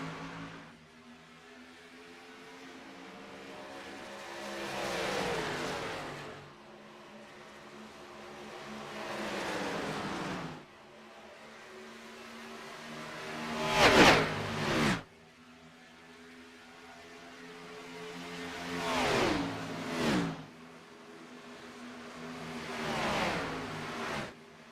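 Race cars go flat out around the oval at Texas in the iRacing sim, with engine drones rising and falling as packs of cars sweep past in repeated waves, some passes loud and close.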